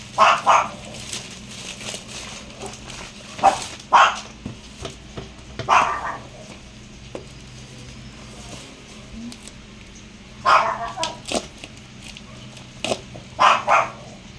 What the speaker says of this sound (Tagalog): napakaingay talaga ng Choco